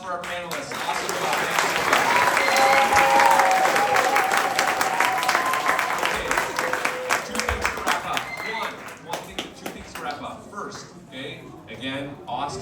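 A crowd gives panelists a big round of applause, with steady, full clapping through most of the stretch that thins into scattered claps near the end, a voice speaking over the top.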